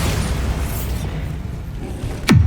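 Rumbling blasts from spell attacks in the wizarding game Hogwarts Legacy, a steady loud low roar ending in a sharp bright crack near the end, with no voices.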